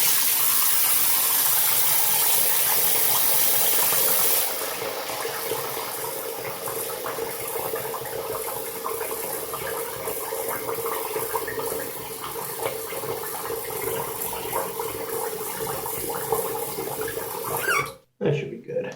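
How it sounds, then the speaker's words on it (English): Tap water runs steadily into a kitchen sink as it fills, a loud continuous rush that softens after a few seconds and stops abruptly near the end with a clunk of the faucet. "Let me preemptively fill the sink."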